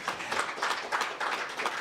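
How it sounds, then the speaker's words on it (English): Standing audience at a stock exchange listing ceremony in Victoria Falls gives a brief, faint round of applause, with scattered clapping in short surges. "We may stand and just give a warm round of applause"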